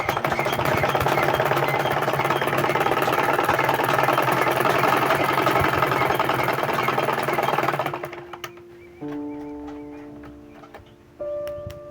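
Tailor's sewing machine top stitching a welt pocket, a loud, steady rapid whirring hum for about eight seconds, then it stops and a quieter tonal hum remains.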